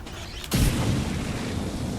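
An incendiary grenade goes off in XCOM 2 Long War of the Chosen, a single sudden low boom about halfway through followed by a sustained crackling, roaring burn that carries on to the end.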